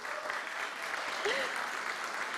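A church congregation at a celebration service applauds steadily, a dense even wash of clapping that holds level throughout, with a brief voice rising through it near the middle.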